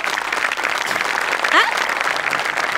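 Dense, loud applause from a comedy show audience fills the whole moment, with a brief whoop or voice rising above the clapping.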